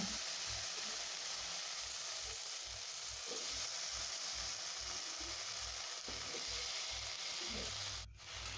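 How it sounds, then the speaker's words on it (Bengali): Elephant apple pieces sizzling steadily in hot oil with lightly fried panch phoron, a close, continuous frying hiss with a soft low rhythmic pulse beneath, briefly disturbed near the end. "পাঁচ ফোড়ন হালকা ভাজা ভাজা হয়ে গেছে এবার আমি এর মধ্যে দিয়ে দেব টুকরো করে রাখা চালতা"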